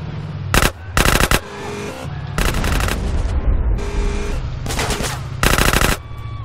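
Automatic gunfire rattles in loud repeated bursts during a warehouse shootout in Grand Theft Auto San Andreas, sharp volleys broken by short gaps over a busy, rumbling game background.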